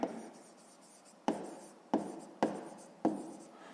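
Pen or pencil writing on paper during a sixth-grade math exercise, five short scratchy strokes, each starting sharply and fading, close and fairly quiet with no talk.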